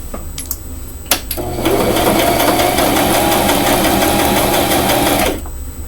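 A sewing machine stitching a pink frock: a short start, then a loud steady mechanical whir for about four seconds before stopping, with a few light clicks beforehand.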